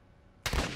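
A single loud R700 sniper rifle shot fires in Call of Duty MWII, a sudden sharp blast that breaks a quiet background and rings out briefly.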